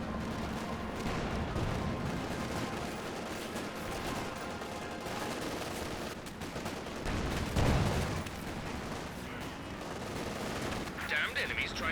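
Tank cannon fire in Company of Heroes 2, a Firefly tank and a Panzer IV trading shots amid dense continuous battle noise of gunfire and explosions, with one heavier boom standing out near the middle and a commentator speaking over it.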